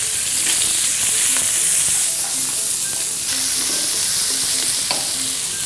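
Green onion frying in oil over high heat for a Korean gukbap, a dense, loud, continuous sizzle with light stirring scrapes, close up and alone.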